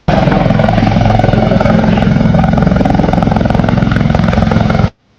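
A loud rescue helicopter thrums close by over flooded villages in Beed, its rotor chopping steadily before the sound cuts off abruptly.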